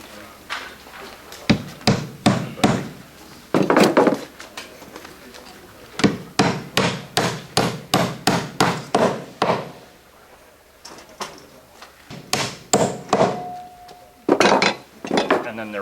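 Hammer driving nails into a cleat for a copper standing seam roof, sharp metallic strikes in quick rhythmic bursts with short pauses between sets, close and loud.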